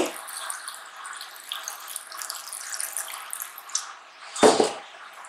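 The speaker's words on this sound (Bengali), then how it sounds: "জল দিয়ে দিচ্ছি।" Water runs steadily into a pot of jackfruit, a continuous splashing pour that ends with a louder burst of splashing near the close, with no talking.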